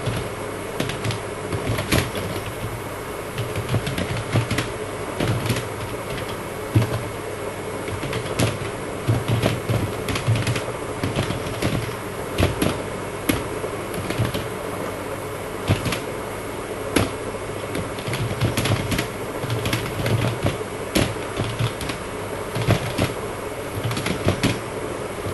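Close, continuous clacking keystrokes on a computer keyboard while typing a letter in a word processor, irregular rapid taps with short pauses and a faint background hum.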